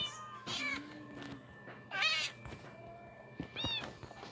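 Cats in the Minecraft video game meow three times in a row, clear and close, each call separated by short pauses over quiet background.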